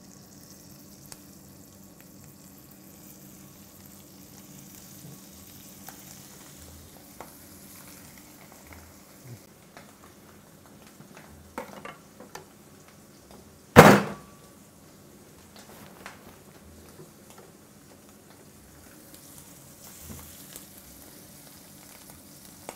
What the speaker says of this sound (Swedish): Nu har vi stekt bröst, vi har stekt magen och hjärtat.